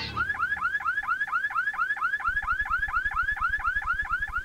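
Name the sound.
Sears home security alarm sounding in a TV advert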